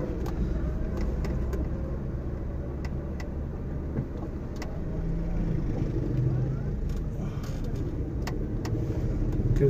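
Steady low rumble from inside a moving car on a road trip between towns, continuous engine and road noise with faint knocks, slowly swelling louder toward the end, with no talking.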